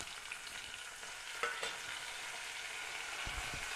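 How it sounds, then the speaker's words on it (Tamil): Okra and tomato with curry leaves frying in a pan, a steady close sizzle with faint spoon scrapes and a brief knock, no voices. "சேர்த்து நல்லா ஃப்ரை பண்ணிக்கோங்க"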